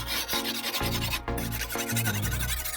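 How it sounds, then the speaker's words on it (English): A kitchen knife is sharpened the old-school way, its blade scraping in steady, close, rasping strokes against a sharpening surface, with several repeated passes and no talk. "So let me show you how I sharpen my knife. This is old school."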